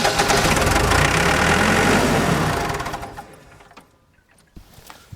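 An ASV PT-100 tracked loader's diesel engine runs loud and knocking for about three seconds, then drops away to a faint rumble with a few scattered clicks.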